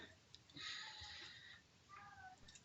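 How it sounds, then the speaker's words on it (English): A house cat meows faintly in the background during a quiet stretch, with one drawn-out cry followed by a shorter one, soft and somewhat distant. "I'm not sure if you can hear my cat right now"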